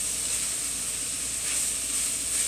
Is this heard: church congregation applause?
no